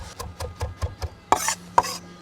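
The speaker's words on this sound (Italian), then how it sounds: "vi mettete a tritare il prezzemolo" A knife chopping parsley on a board in quick, regular taps, followed by a few louder scraping strokes, close and clear without any talking.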